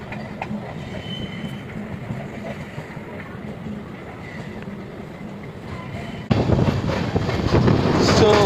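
Lingampally–Vijayawada Intercity Express running, a continuous close rumble with wind buffeting, growing louder and rougher in the final seconds.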